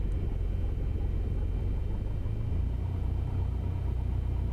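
A Cessna Skyhawk engine idling at about 1000 RPM in Microsoft Flight Simulator 2020, a steady, loud, low droning rumble that holds constant throughout with no talk.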